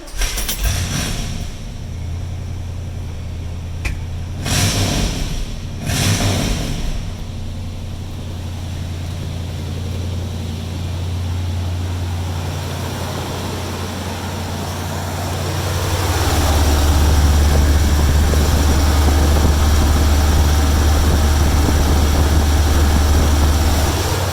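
A '73-'86 Chevy square body truck engine cranks with a few short bursts, then catches and settles into a steady low idle that grows louder and rougher toward the end, heard close with no talking.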